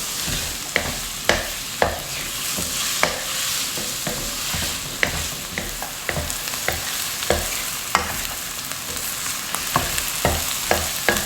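Onions fry over high heat in a pan while a utensil stirs them steadily, sending sharp scraping strokes at an uneven rhythm over a constant close sizzle.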